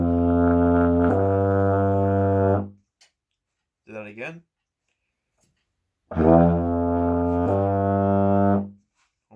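A euphonium plays a tune: two phrases of loud, sustained low brass notes that step upward, separated by a short spoken remark in between.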